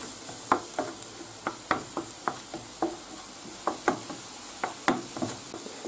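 Seafood paella stirred in a pan, a utensil scraping and knocking in quick, regular strokes over a steady sizzle, close and clear.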